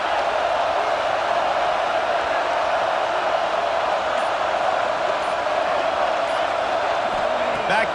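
A stadium crowd in the College Football 26 video game roars as a steady, loud, unbroken wall of cheering before a big third down, with no gaps or swells.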